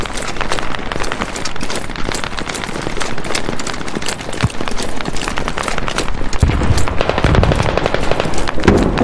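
Machine gun fire in the military shooter game Squad, rapid bursts of gunshots repeating across a busy battlefield mix, loud and sustained without talk.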